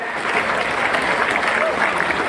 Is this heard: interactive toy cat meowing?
no